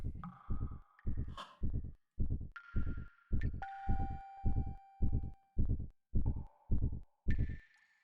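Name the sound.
heartbeat sound in the video game Xenogears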